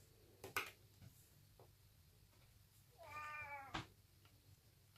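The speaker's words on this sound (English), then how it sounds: "Please excuse my cat in the background there." A cat meows indoors in the background, several short calls and one longer drawn-out meow, fairly faint against a quiet room, with no talking.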